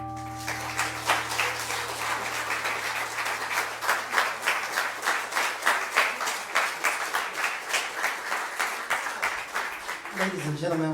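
Live audience applause at a stage event where a singing act is introduced, steady dense clapping throughout, loud and close, with a sustained low tone fading early and a brief voice near the end.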